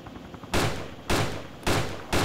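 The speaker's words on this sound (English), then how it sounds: "I'm shooting at the heli." Gunfire in the video game DayZ aimed at a helicopter: four loud, sharp shots spaced roughly half a second apart, each with a short decaying tail, standing alone without talk.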